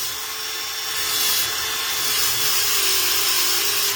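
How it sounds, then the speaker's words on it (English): Power drill running in reverse to round off the edges of racing foams for street outlaw tires, giving a steady high-pitched whir and grinding rub that continues for several seconds. "I'm going to reverse the drill. I'm going to round these edges off."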